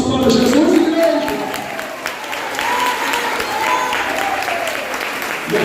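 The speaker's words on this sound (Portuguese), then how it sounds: "Batam palmas para Jesus, igreja." A church congregation clapping together in steady, dense applause during a Portuguese-language worship service, with a sung or spoken voice carrying over the clapping throughout.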